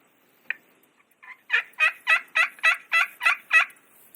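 Spur Master turkey call worked by hand, giving one short note and then a run of about eight rhythmic yelping notes with kiki-like breaks, loud and close with a quiet background.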